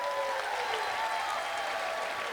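An audience at a poetry slam applauds a poet after the scores, a dense, even wash of clapping with a faint tonal hum running underneath and some crowd noise.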